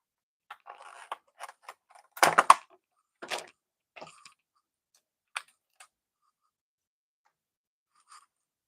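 Sparse clicks and clatters of a computer keyboard being handled and typed on, in short irregular bursts with a louder cluster near the middle, close and quiet against silence.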